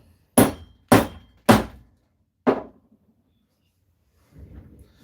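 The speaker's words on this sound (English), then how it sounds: "I'm gonna hit this with a brass hammer" A brass hammer strikes a silver coin ring four times, loud sharp metallic impacts with quick decays, three in a fast row and a fourth after a pause, followed by faint shuffling.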